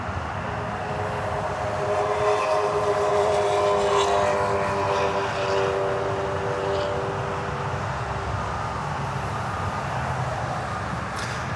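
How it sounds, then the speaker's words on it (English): A Delta Connection regional airliner takes off at New York LaGuardia in a strong crosswind, its engines giving a loud, sustained roar with a rising tonal whine that swells and then slowly eases. "this one is an Endeavour Delta Connection Flight 5089, flying to Colombia"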